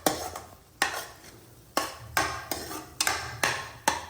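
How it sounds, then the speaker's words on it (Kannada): Onions frying in a pot for handi chicken, stirred with a utensil that strikes and scrapes the pot in a string of sharp, irregular knocks about every half second over a soft background sizzle. "ಸೊ ಆನಿಯನ್ನ ಫ್ರೈ ಮಾಡ್ಕೊಳ್ಳೋಣ, ಹಸಿ ಸ್ಮೆಲ್ ಹೋಗೋವರೆಗೂ, ಮತ್ತು ಗೋಲ್ಡನ್ ಬ್ರೌನ್ ಕಲರ್ ಬರಬೇಕು."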